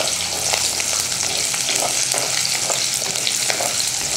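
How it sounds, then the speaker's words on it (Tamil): Onions and garlic sautéing in hot oil for Tamil vengaya kulambu, a loud, steady close sizzle and crackle throughout with light stirring. "நம்ம வந்து வெங்காயம் பூண்டு இது எல்லாமே ஒவ்வொன்றா வதக்கிக்கலாம்"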